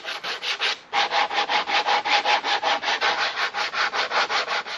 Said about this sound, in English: Take some sandpaper, put it around a sanding block, and just give your edges a nice clean finish